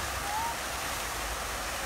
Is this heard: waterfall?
yes